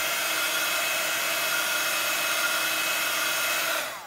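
A heat gun blows steadily while drying alcohol ink on a craft surface, a loud, even whirring hiss that holds constant for about four seconds, then cuts off at the end.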